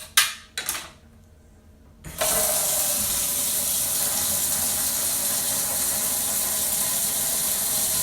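A domestic hot water tap is opened by a plumber: a couple of brief knocks, then water gushes out and keeps running in a steady, loud, broadband rush until the end, with no talk.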